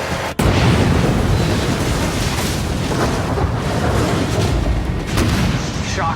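A violent volcanic eruption explosion: a sudden sharp blast opens into a sustained, dense, roaring rumble that stays loud and unbroken for several seconds, with scattered crackling bursts on top.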